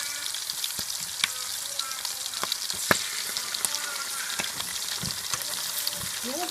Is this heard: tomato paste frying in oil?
yes